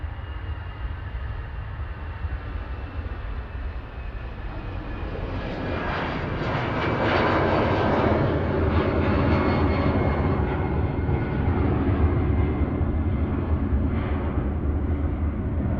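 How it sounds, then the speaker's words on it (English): An EasyJet airliner rolls down the runway at Manchester Airport, departing for Belfast, its jet engines a loud, broad roar that swells and holds steady as it accelerates, heard alone without voices. "EasyJet on the roll. Head off to Belfast"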